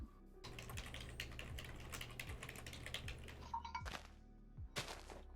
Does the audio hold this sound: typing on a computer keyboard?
yes